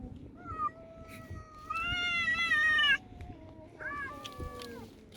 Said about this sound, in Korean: 고양이 울음소리가 애기들 울음소리랑 비슷하댔는데 맞아 진짜 똑같아.